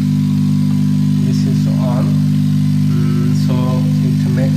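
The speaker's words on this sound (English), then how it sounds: "Now I give the supply. And you see this compressor is on." A refrigerator compressor, connected with a PTC relay and overload protector and no capacitor, hums loudly and steadily right after power is switched on, a constant low drone throughout with brief clicks and rattles over it.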